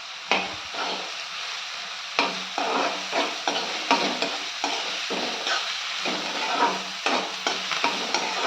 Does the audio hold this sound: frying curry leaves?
yes